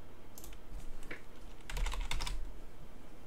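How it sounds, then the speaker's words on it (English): A password is typed on a computer keyboard, a short close cluster of key clicks with a quicker run near the end, about three seconds long and with no talk. "Help if I type the password in right."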